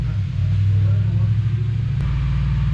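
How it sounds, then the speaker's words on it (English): A 1969 Camaro with an LS engine on a dyno makes a loud, steady low engine drone with droning tire roar louder than the exhaust, holding constant throughout, close by with no talk. "Is it bad when the tires are louder than the exhaust?"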